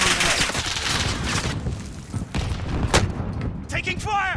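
Bursts of gunfire and booming blasts in Call of Duty: Modern Warfare, loud and dense, with a voice calling out over the shooting.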